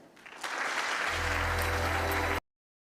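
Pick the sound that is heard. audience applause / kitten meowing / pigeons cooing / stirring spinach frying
audience applause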